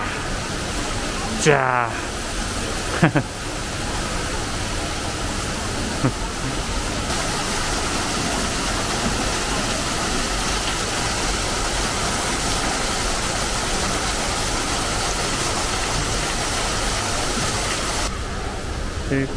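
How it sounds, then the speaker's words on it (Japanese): Cloud shower water spray at a Tokyo water science museum exhibit, a continuous broad hiss of spraying water that starts with a button press and runs steadily under a brief spoken word and some clunks. "雲のシャワー、ボタンを押すとシャワーが出るよ。"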